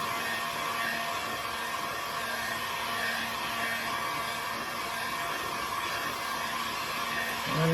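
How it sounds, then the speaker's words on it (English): Heat gun blowing hot air to dry paint on a rusty flower pot, a steady loud whooshing hiss with a faint whine, continuous and unchanging with a slight swell at the end. "just using my heat gun to get this dry"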